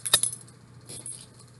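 Keys are pulled from the second pocket of a bag, a short bright metallic jingle at the start followed by softer rustling and a faint second jangle.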